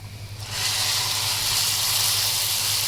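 Spiced, strained broth poured into a pot of rice for rice with vermicelli, a steady close gushing pour with a hissing splash that starts abruptly and runs continuously with no talk.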